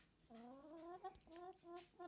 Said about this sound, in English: Are you being a bad chicken?